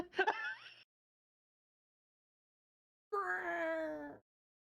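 A cat meows during a stretch, with a short chirping call followed after a pause by a longer drawn-out moaning meow, both close and clear.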